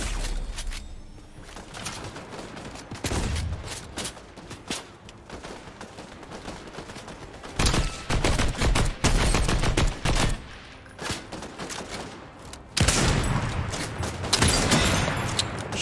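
Fortnite gunfire in several clusters of sharp rapid shots, quiet stretches broken by loud bursts of repeated cracks, close and punchy, with no talk over them.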